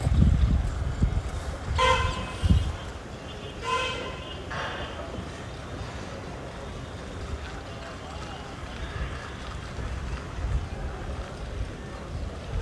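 A train horn sounds in short toots around two and four seconds as an express train pulls out of a railway station, followed by steady rumbling movement noise, with some voice underneath.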